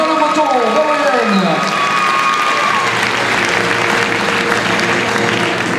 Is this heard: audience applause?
yes